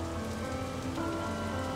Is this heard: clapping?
no